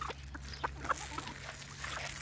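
Farm chickens give a few short, scattered clucks against a steady low hum, with one black hen among the flock.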